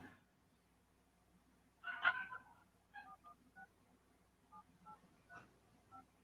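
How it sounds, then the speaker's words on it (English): Faint electronic telephone tones, short beeps in an irregular sequence, quiet and slightly distant, with a louder blip near the start. "I heard like dial tone"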